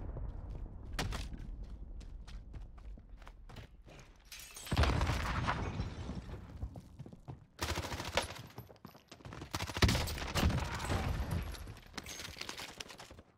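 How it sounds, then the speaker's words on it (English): Gunfire in a shooter video game crackles in scattered single shots, then erupts into several loud, dense bursts of rapid fire and impacts separated by short quieter gaps. "Who is shooting, bro? Somebody's shooting over there."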